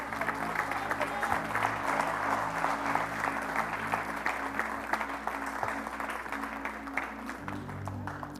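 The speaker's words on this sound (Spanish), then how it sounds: "Vamos a darles un aplauso" A church congregation applauds in a steady, sustained burst of many hands clapping over a low, steady background hum.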